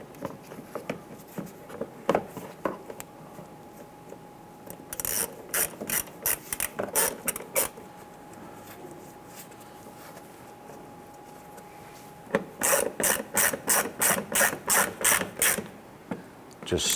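Clicking ratchet driving Torx head screws into a water pump on a 2008-2013 Nissan Rogue, a few slow clicks early, then two rapid, loud runs of ratcheting strokes separated by a quieter pause.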